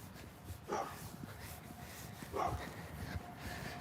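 A dog outside on a residential street in Beavercreek, Ohio, barks twice about two seconds apart, fairly faint and distant over a low outdoor background.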